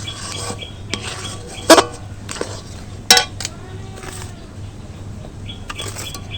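A spoon stirring and scraping as flour and semolina are mixed into grated coconut in a pot, with a few sharp metallic clinks against the rim between softer rubbing strokes.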